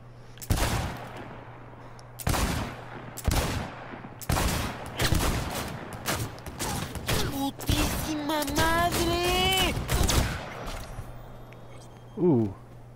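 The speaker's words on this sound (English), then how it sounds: "why are they shooting at us?" Video game gunfire in Cyberpunk 2077: loud, sharp shots in separate bursts and rapid volleys over about ten seconds, with a steady low hum beneath and electronic whines near the end.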